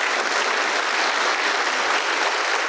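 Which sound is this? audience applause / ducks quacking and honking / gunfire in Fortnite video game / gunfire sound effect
audience applause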